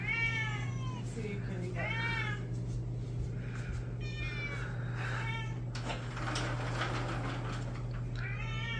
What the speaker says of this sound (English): We got more cats than we can handle here in the Philippines.